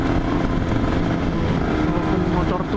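Old Honda NSR 150 two-stroke motorcycle engine running steadily at close range, a loud continuous buzzing drone with no clear revs or pauses.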